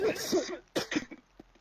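Two short, harsh coughs close to the microphone in a NEOS VR session, followed by a few faint throat sounds.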